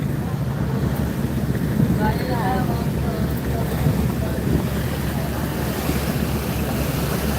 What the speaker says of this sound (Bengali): লঞ্চটি খুব ভালো গতিতে ঢাকাতে যাচ্ছে